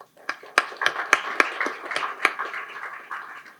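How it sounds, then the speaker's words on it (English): An audience at a book launch clapping for the authors, a sparse scattering of individual hand claps rather than full applause, with people talking over it. "Please join me in applauding the authors and their groundbreaking work."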